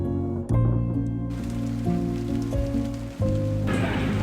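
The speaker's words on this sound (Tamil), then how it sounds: "என்னன்னு ஊருக்கு போகிற நேரத்தில் மழை பெய்யுது." Rain falls steadily in a dramatic scene, a continuous hiss of drops that swells near the end, mixed with sustained tonal music-like sounds. No voices are heard.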